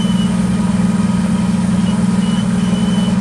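A TCM FCG36N5 8,000 lb capacity cushion tire forklift sits idling, a loud, even, low drone that holds steady without change.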